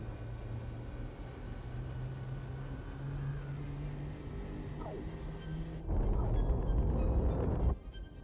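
Capital ship engines spooling up in the X4 space game, a low steady droning hum that builds and then swells into a louder rumbling roar for a couple of seconds before dropping back.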